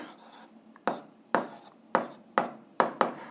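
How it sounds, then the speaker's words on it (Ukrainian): Answer written by hand for an algebra exercise, a close pen scratching out five or six distinct strokes, each a short sharp scrape fading quickly in a quiet room. "записуємо відповідь, пишемо відповідь"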